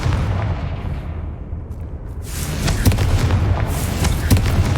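A fiery Confringo blast in the video game Hogwarts Legacy, heard as a loud booming explosion that swells after a rumbling lead-in, followed by crackling debris and several sharp pops over a dense low roar.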